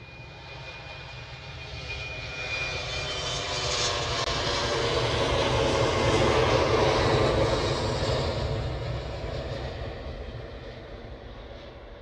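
A KLM airliner departing Manchester Airport for Amsterdam: a broad, rumbling engine roar that swells to a peak midway as the plane passes and then slowly recedes, heard from a distance with no talk.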